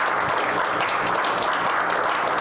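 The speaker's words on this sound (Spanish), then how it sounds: "Brindémosle a él también, por favor, un fuerte aplauso" Steady audience applause at a literary panel event, a continuous wash of many hands clapping at moderate loudness.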